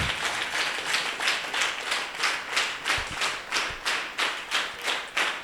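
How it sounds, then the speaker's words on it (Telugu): A church congregation at a Telugu Christian youth meet claps hands together in praise, a steady, evenly spaced rhythm of about two claps per second with a few thumps, close and lively. "దగ్గరగా చప్పట్లు కొడుతూ ప్రభుని స్తుతిద్దాం"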